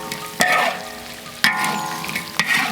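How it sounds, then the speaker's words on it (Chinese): Chili peppers stir-fry with potatoes and bitter melon in a wok, with a steady close sizzle and crackle and three sharp scraping stirs of the spatula. "加入辣椒，再炒一下，加辣椒进去炒个2分钟"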